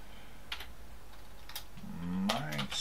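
Typing on a computer keyboard to enter a username into a Samba command line: a few isolated clicks early on, then a quicker, louder burst of keystrokes near the end over faint room noise.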